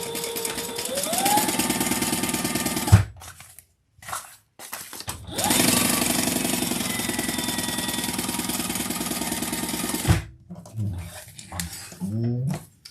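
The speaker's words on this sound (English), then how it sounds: "now we're going to stitch across, top stitch across the folded edges" A sewing machine top stitches across folded fabric edges, its motor whirring steadily and loudly in two sustained runs of about three and five seconds, each rising up to speed and then stopping, with brief talk in between and after.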